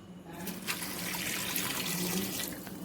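Water pours into a pressure cooker holding onions, tomatoes and garlic-ginger paste for rajma masala, a continuous close splashing stream lasting a few seconds without speech.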